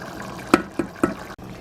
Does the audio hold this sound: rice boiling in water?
yes